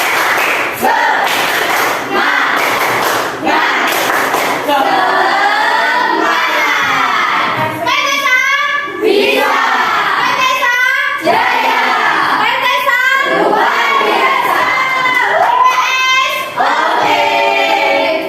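A group of children in a classroom shout a rhythmic clapping chant together, loud and energetic, with bursts of clapping and cheering woven through it.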